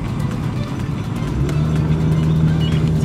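A car drives on after refuelling with 95-octane petrol at a Rosneft station, a steady close engine drone and road rumble inside the cabin, with a low hum rising midway and no talking.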